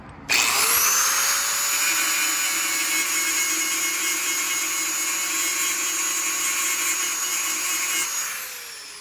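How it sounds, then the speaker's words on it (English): An angle grinder runs continuously for about eight seconds, a loud high-pitched whine with steady abrasive rasp as it cleans metal down to bare metal for welding, spinning up sharply at the start and winding down at the end. "I'm gonna grab the grinder and just for easy welding, I am gonna clean this to bare metal."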